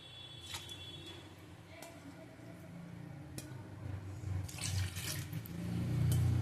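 Water pours into a pot for making syrup, a running, splashing stream that grows fuller and louder toward the end, with a few faint clinks along the way.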